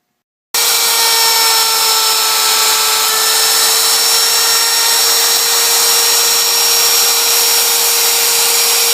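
A handheld router cuts into an alder wood Telecaster guitar body under a template, a loud continuous high-pitched whine with a steady tone that starts abruptly after a brief silence and runs unbroken.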